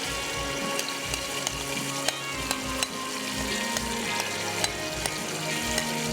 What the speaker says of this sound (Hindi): और चिकन को आपने अच्छे से करना है फ्राई।